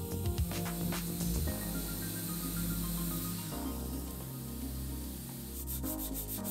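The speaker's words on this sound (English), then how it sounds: "I can go over the top of that with a palm sander and clean them up" A palm sander works over the wooden splines of a mitered frame, giving a constant close-up humming buzz with gritty rubbing that shifts in pitch as pressure changes.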